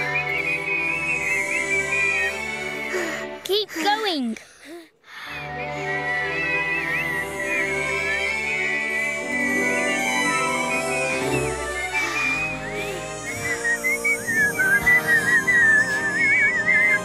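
Sustained, wavering whistling from several people continues almost throughout, broken by a short pause and a brief spoken line, with background music underneath.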